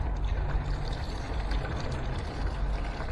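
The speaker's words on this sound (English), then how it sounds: "Alright, so we got our water. Let's start pouring on top." Water poured onto the roof of a pop-up tent gives a continuous close splashing, drumming wash on the fabric, steady and fairly loud throughout with no talk.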